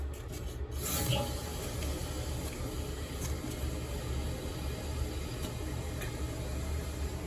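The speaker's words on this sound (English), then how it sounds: "I can hear the water." Water runs steadily through a newly installed hand-held bidet on a toilet, a continuous close hiss and rush of flow without a break.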